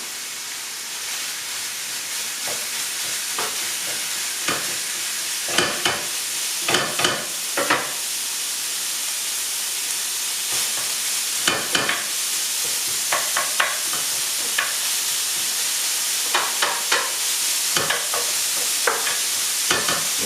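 Taco filling sizzles loudly and steadily in a frying pan, with scattered scraping and clinking from stirring breaking through the hiss.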